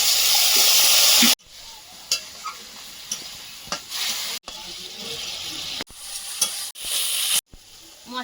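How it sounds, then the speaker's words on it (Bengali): Water poured into coriander and cumin powder masala frying in a pan sends up a loud burst of hissing sizzle, which then settles into quieter sputtering broken by repeated scraping stirs. "ধনে গুঁড়ো জিরে গুঁড়ো সামান্য একটু জল দিয়ে দেবো"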